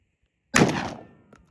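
A single close, loud shotgun blast from a Panzer shotgun fired outdoors at a target, with a sharp onset and a decaying rumbling tail, then a faint small knock about a second later.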